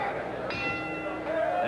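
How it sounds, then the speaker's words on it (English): A boxing ring bell sounding to start round 4 of a 1987 kickboxing bout, two ringing bell strikes with lingering tone over a continuous crowd roar and commentary. "There's the bell to begin round 4"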